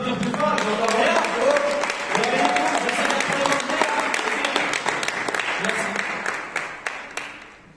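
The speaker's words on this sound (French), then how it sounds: "On peut applaudir plus fort" A church conference audience claps loudly and steadily in a hall for an arriving speaker, the applause rising to a full burst and then slowly tapering off.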